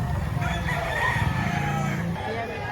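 A rooster crows loudly and close by at a busy Saturday chicken market in Lipa City, Batangas, one long call rising over the murmur of people and other fowl.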